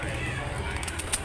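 Pigeons cooing amid market bustle at a bird market in Kuripan, Pekalongan, with steady low murmuring and crowd noise throughout and a brief brighter call near the end.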